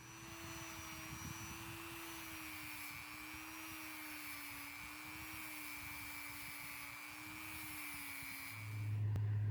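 A Dremel rotary tool spins a wire brush, wrapped in heat shrink, to clean a screwdriver ferrule. It gives a steady, high, whining drone with a faint scratchy edge and a slight rise near the end.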